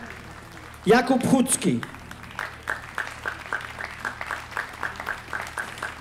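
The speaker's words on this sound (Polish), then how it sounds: "Wielkie brawa" Audience applause for a performer at a music festival stage, a burst of clapping that starts loud and fades into scattered claps, with an announcer speaking through it.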